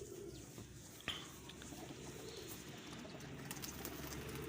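Rare pigeons of a prized breed coo steadily and close by in a home loft, with a soft continuous murmur and one sharp click partway through.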